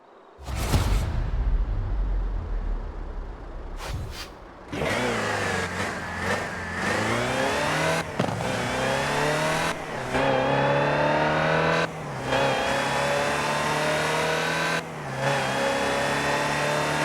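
A Land Rover Type 3 in Forza Horizon 4, its engine revving loud and close through repeated climbing pulls, each broken by a short gearshift gap before the pitch rises again, with a burst and whoosh near the start.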